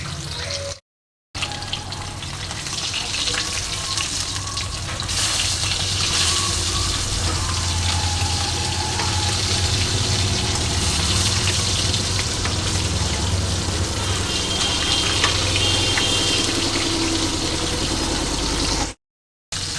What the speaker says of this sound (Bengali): দেখো মাছ 4 পিস আমি কড়াইয়ে ছেড়ে দিয়েছি। এবার 1 পিস ভাজা হোক